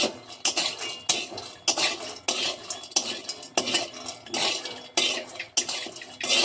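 Spices for a rohu and mrigal fish masala dry-roasting in a pan, with loud, rhythmic metal spatula scrapes and clatters about once every half second, close up.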